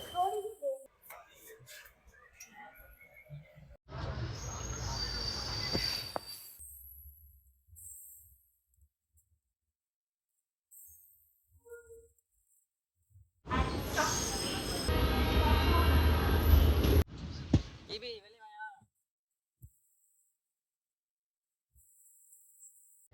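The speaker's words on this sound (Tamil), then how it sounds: "வாங்க திருத்தணிக்கு அப்படியே போயிட்டே இருக்கும் ட்ரெயின் போய்கொண்டே இருக்கிறது" A local train on the Arakkonam to Thiruthani route rumbles past in two loud bursts of rolling noise separated by quiet, heard from close by with occasional soft voices in between.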